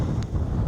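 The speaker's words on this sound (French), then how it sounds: "je sais pas si vous allez bien m'entendre avec le vent" Gusting wind buffets an outdoor microphone on an Auvergne hillside in the Cézallier, a loud, continuous low rumble and roar throughout with a brief higher flutter near the start.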